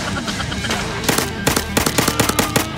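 Rapid gunfire crackles in the VR shooter ZeroCaliber, loud bursts of close shots firing in a quick, uneven rhythm that build into steady automatic fire toward the end.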